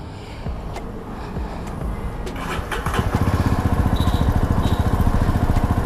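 A Jawa motorcycle engine cranks over and catches, then settles into a loud, close, rapid thumping idle that carries on steadily to the end.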